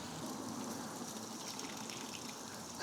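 Water sprayed onto a sun-softened asphalt road in Belgium to keep it from melting, a steady gushing hiss heard from a short distance, continuous and even, with a louder surge at the very end.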